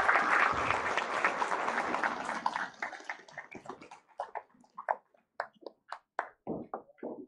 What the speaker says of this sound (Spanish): para quien pida un fuerte aplauso,